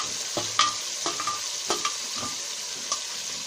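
Green chillies and spring onions fry in a pan with a steady hissing sizzle, broken by several sharp scrapes and clinks of a spoon stirring against the metal at uneven intervals. No one speaks.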